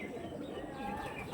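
Active pigeons coo in a low, continuous murmur with faint chirps woven through a dense, steady background.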